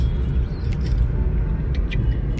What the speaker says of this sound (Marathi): दादा कार चालवत आहे.